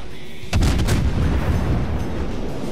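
Gunfire from a video game cracks in a quick burst of three or four loud shots, followed by a lingering low rumble.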